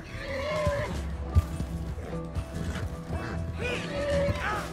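Horses whinny and neigh repeatedly amid thumping hooves and clattering action in the video game Red Dead Redemption II, with a voice briefly speaking in the busy mix.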